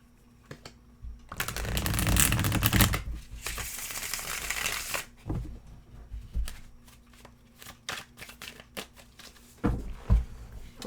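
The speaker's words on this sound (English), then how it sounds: "sit up when I shuffle these" Tarot cards being shuffled in several bursts, a long continuous riffle of rustling and slapping card edges near the start, then scattered sharper snaps and taps, close and fairly loud with no talking.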